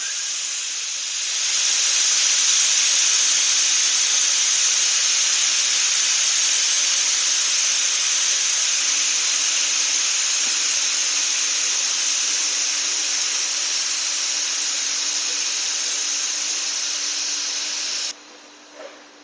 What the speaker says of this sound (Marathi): ह्याच्यामधले एअर पूर्ण रिलीज करून घेऊया आपण पहिल्यांदा.